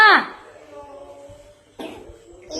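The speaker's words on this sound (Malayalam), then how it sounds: "കുഞ്ഞിപ്പെണ്ണ് ചുമക്കണേ" A small child coughs sharply and close at the start, followed by a quieter stretch and then another short, rough burst of coughing or throat sounds near the end.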